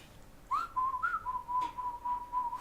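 Children whistle together in imitation of birdsong, a wavering, sustained group whistle rising at first and then holding a steady pitch with small swoops and trills, continuous over a quiet room.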